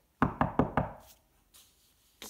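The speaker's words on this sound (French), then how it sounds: "Il frappa à la porte" Four quick, firm knocks land on a wooden door in an even rhythm, close and crisp, followed by a pause with faint rustling.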